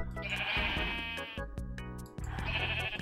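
Sheep in the Minecraft Ice and Fire mod bleat twice in quick succession, clear wavering calls near and loud, separated by a short gap with a sharp click, and no talk over them.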